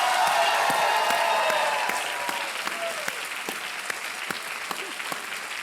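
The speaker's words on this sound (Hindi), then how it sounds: "जोरदार तालियां बज जाए इनके लिए।" Studio audience on a televised quiz show applauds a winning contestant: dense, sustained clapping that starts full and gradually thins, with individual claps standing out near the end.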